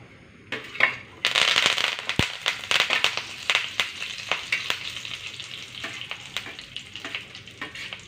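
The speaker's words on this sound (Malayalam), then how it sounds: "രണ്ട് മുളക് ഇട്ട് കൊടുക്കാം കറിവേപ്പില ഇട്ട് കൊടുക്കാം" Dried red chillies and curry leaves dropped into hot coconut oil, a sudden loud sizzle and crackle that keeps popping in quick bursts before slowly settling, close up with no talking.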